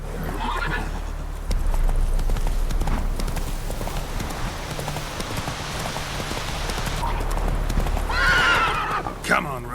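Roach, the horse in The Witcher 3: Wild Hunt, gallops with rapid clip-clopping hooves over a rain-like hiss, then gives a loud whinny near the end, with some voice in the mix.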